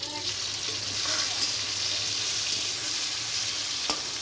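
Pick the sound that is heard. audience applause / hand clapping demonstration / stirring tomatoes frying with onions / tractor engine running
stirring tomatoes frying with onions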